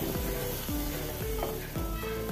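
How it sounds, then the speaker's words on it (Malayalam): Masala in a hot pan, with water being added, sizzles continuously at close range, while regular scraping strokes of stirring repeat about every half second. "ഇനി കുറച്ച് വെള്ളം ഒഴിച്ചു കൊടുക്കാം, നമ്മുടെ മസാലയും എല്ലാം കൂടി ഒന്ന് സെറ്റാകാൻ വേണ്ടി"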